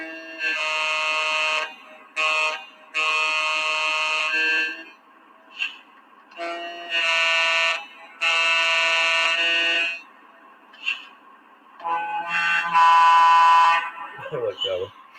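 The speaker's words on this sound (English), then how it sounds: "let me go ahead and run through the different horns this guy has." A Legacy GP20 model train locomotive sounds its quillable horn in a series of loud blasts, some long and steady, others short toots, separated by quiet gaps with faint mechanical noise, ending in a wavering, drawn-out call.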